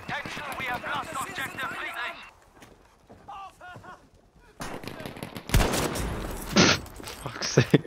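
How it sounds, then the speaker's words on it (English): Gunfire in Battlefield V, bursts of rapid automatic shots in the first seconds, a quieter lull with scattered pops, then loud sharp cracks and explosive blasts later, mixed with game sounds and some voices. "We're being shot, Charlie."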